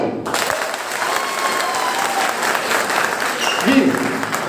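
An audience at a success seminar in Sikar claps together in a dense, sustained burst of applause that starts abruptly and holds steady for several seconds, filling the hall.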